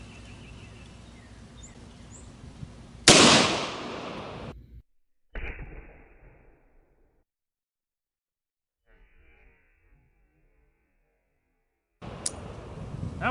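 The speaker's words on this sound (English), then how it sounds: "First shot here is going to be that buffalo bore 45 Colt anti-personnel round there." A Buffalo Bore .45 Colt anti-personnel round is fired into ballistics gel outdoors, one sharp, loud blast that rings out and decays, followed by a fainter thump and stretches of silence.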